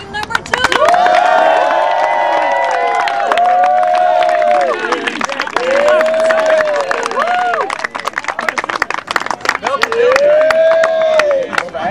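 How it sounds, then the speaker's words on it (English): A large crowd at a city league final in Amsterdam cheers for the green team, a loud, sustained roar with claps and repeated rising and falling horn-like whistle tones throughout. "I want a big cheer for the green team, team number 2!"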